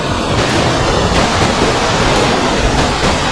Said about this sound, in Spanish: por fin hemos llegado a la cascada Cinco Cerros